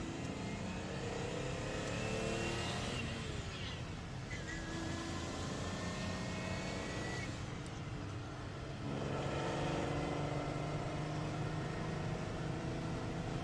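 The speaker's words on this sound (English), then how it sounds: "You can hear the gears whining." A 4-cam, 24-valve off-road sand car engine revs steadily in a continuous mid-volume drone, with a thin whine from the gears riding over it and slight rises in pitch.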